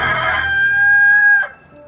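A rooster crows once, loud and close, a single drawn-out cock-a-doodle-doo that cuts off sharply.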